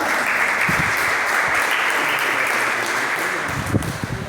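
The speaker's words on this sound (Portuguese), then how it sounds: "Você pode aplaudir ao Senhor?" A church congregation at a children's service applauds steadily and loudly, with a few thumps and stray sounds near the end as the clapping tails off.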